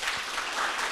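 A young audience at a youth event in Koumassi breaks into brief, dense applause, a continuous burst of many hands clapping with no one speaking over it.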